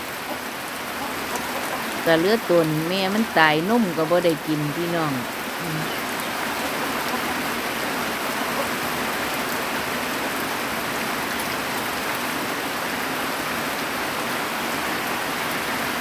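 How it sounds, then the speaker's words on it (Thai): Heavy rain pours down during a storm in Sisaket, Thailand, in a steady, dense hiss; a voice speaks briefly near the start, then only the downpour continues. "ฝนตกมาก"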